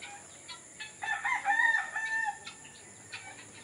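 Heritage chickens on a small mixed farm with turkeys, guineafowl and Muscovy ducks cluck, and a rooster crows once in the middle, moderately near over a quiet outdoor background with scattered smaller calls.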